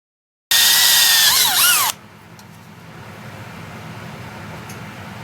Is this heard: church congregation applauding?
no